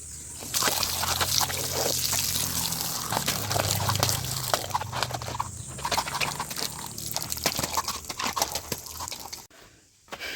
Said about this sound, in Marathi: आता बाई जरा बुटावर पाणी मारतोय